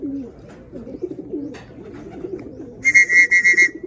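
Racing pigeons arriving at the loft during a hard race from Vigan, Ilocos Sur, cooing in low repeated burbles near the microphone, then a burst of sharp pulsed electronic beeps from the loft's arrival clock.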